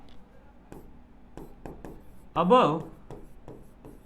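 Short, scratchy strokes of writing on a classroom board during a chemistry lecture come in a loose rhythm, quiet and close, with a brief burst of speech partway through.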